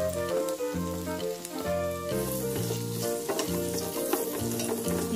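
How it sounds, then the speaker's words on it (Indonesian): Onion and carrot sizzle in a hot pan as they are stirred during sautéing, a steady close frying hiss with occasional scraping under tonal background music. "Rempah-rempahnya siap ditumis dan yang pertama saya masukkan di sini bawang bombay."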